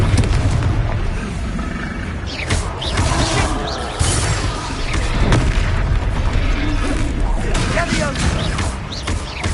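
Confringo fire spell explosions in the wizarding video game Hogwarts Legacy, heavy booming blasts repeating through a loud, dense battle mix with other spell effects.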